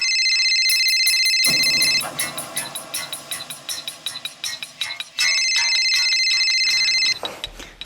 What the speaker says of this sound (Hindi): रिंग जा रही है, कुछ तो गड़बड़ है।